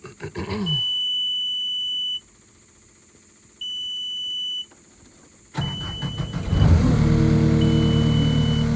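A Cat 259D skid loader with a clogged DPF and check engine light has its dash warning beeps sounding in steady tones, then the diesel engine cranks, starts and settles into a loud running rumble close by.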